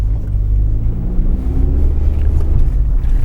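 A car's engine revs hard as its rear end slides around on a snowy surface, a loud, close, rising growl with a wavering pitch throughout.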